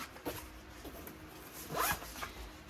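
Zipper on the pocket of a sewn Lauren tote bag pulled in a few short close rasps, the loudest sweep near the end, with no talking.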